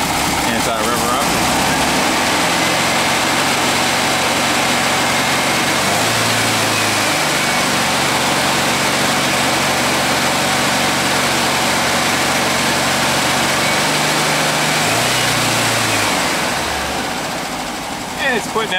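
An air-cooled Volkswagen engine idles steadily, then revs up twice, with a rough, throbbing low drone that rises and falls back to idle.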